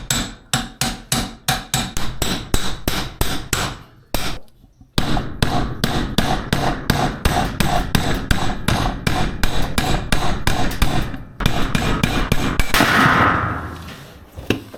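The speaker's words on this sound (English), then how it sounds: "I'll put this through the bearing hole, like so, and just hammer it down." Rapid, loud metal hammer blows drive a bearing into a cheap trailer's wheel hub, struck in quick steady bursts with a brief pause partway through.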